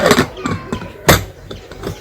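A pressure cooker lid is fitted and locked shut while beef roast is being cooked, giving a few close metallic clicks and clatters with one sharp knock in the middle.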